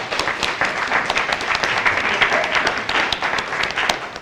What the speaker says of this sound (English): Give yourself a clap for that.